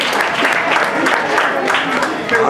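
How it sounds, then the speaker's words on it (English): Wedding guests clap together after a toast, a steady wash of applause holding for the whole stretch, with some voices mixed in beneath it. "Give a big round of applause"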